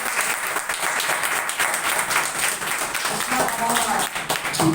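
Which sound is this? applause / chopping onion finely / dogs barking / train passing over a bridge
applause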